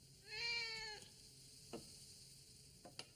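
A single clear cat meow, fairly quiet, followed by a few soft clicks and light background sounds in an otherwise quiet room, in an animated children's cartoon.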